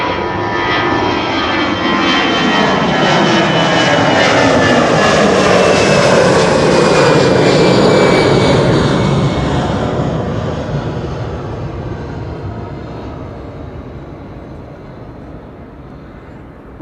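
Transavia Airbus A321neo in retro livery descends to land at Schiphol, its engines a loud broad roar that swells as it passes overhead and then fades steadily into the distance, with no voices.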